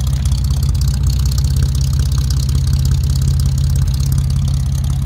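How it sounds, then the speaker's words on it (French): A 1950 Plymouth business coupe's flathead six, fitted with twin three-into-one exhaust headers, idles steadily and loudly up close, a deep, even rumble with a regular low pulse and no talking. "elle est en train de tourner au ralenti."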